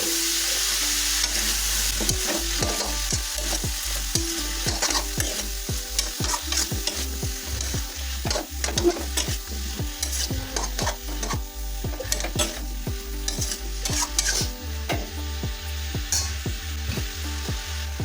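Mixed vegetables stir-fried in a kadai over a medium flame, a continuous sizzle punctuated by rapid, repeated metallic scrapes and knocks of the spatula, close and busy, no talking.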